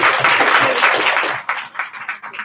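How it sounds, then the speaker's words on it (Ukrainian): Audience applause at a panel discussion with Paralympic medallist Oksana Masters, a dense burst of many hands clapping that thins into scattered claps as it dies away. "Прошу аплодисменти."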